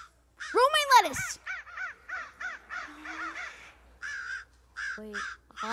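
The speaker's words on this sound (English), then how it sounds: "Ugh, these darn crows." Harsh caws from crows repeat in a rapid series in a staged outdoor farm scene, close and fairly loud. A sharp swooping call opens the run, and a brief lower voiced sound follows near the end.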